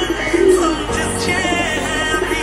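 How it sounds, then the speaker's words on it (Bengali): Pet pigeons coo softly nearby in low, throaty murmurs, with a clear coo early on and more faint cooing over steady background. "এগুলো আমার কবুতর।"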